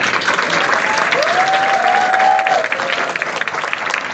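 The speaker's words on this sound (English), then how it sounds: "let's give Yvonne another round of applause" An audience applauds after a talk by Yvonne Yen to Singapore members, a dense, steady wash of many hands clapping at even loudness, with a brief tonal whistle or cheer rising in the middle.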